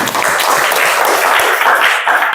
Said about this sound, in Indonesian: Tepuk tangan untuk Bilqis.